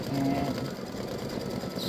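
An embroidery machine stitching the nose of a Halloween witch design, a steady rapid mechanical whir and needle clatter, fairly close and continuous, with a faint voice partly under it.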